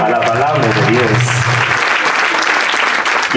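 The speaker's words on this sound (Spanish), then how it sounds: "Te aporto un aplauso a la palabra de Dios" Applause at a religious gathering honouring the Virgin of Fatima, dense and loud, with someone speaking over the start of the clapping.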